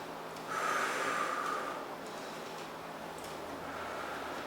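Someone takes a single deep, audible inhale through the nose during a mini trampoline rebounder workout, a breathy rush lasting about a second over a quiet room hum.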